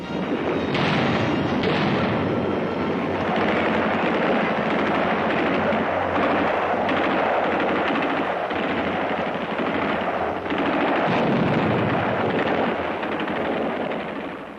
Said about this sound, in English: Japanese artillery and mortars are zeroed in on every foot of the island.